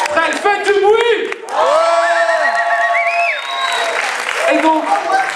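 A crowd at a hip hop dance contest cheers, whoops and shouts with loud, sustained energy, long high-pitched yells rising above a dense roar of voices and scattered clapping.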